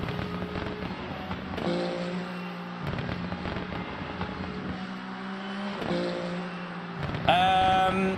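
Exhaust crackles and pops from a race car in Le Mans Ultimate, bursts of sharp popping over a droning engine that cuts in and out repeatedly, ending on a louder high-pitched whine.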